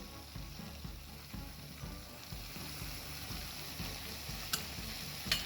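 Beef sautéing in a pan for a beef curry with spices, a steady close sizzle and fry with rhythmic scraping stirs and a couple of sharp clinks, no voices.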